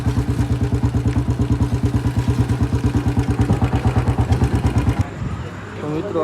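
A Bullet motorcycle engine thumps in a fast, even, loud beat up close, then cuts off abruptly near the end, leaving quieter background noise.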